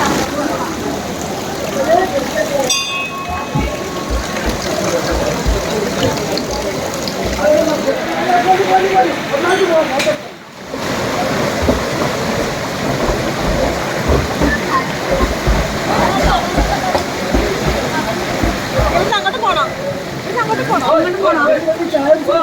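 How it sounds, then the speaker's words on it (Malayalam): River water coming down from the mountain rushes past a famous temple on the Hiranyakeshi river, a steady, loud wash that runs without a break while voices talk over it. "അതിന്റെ ബാക്കിൽ നിന്ന് മലയിൽ നിന്ന് വെള്ളം വരുന്നുണ്ട്"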